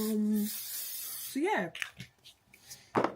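A short hiss of argan oil spray misted onto hair as hairspray, followed by a voice and a few small handling noises and clicks.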